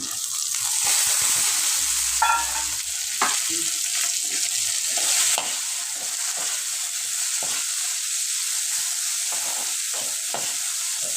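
Yardlong beans and dried fish fry in a pan with a steady hiss, punctuated by occasional scrapes and stirring knocks, close and fairly soft, with no talking.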